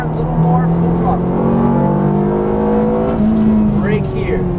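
A Ferrari F430 F1 accelerates at full throttle on a racetrack, its engine note climbing steadily and loudly through the revs, with a driving instructor talking over it.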